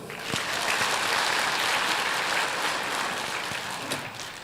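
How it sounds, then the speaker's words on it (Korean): A church congregation gives a steady round of congratulatory applause, many hands clapping evenly for over four seconds at moderate volume with no speech over it. "축하의 박수."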